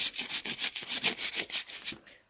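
Very fine 1200-grit abrasive is rubbed lightly along model train track rails in quick back-and-forth strokes, about a dozen even scrubbing passes close up, then stopping, with no speech.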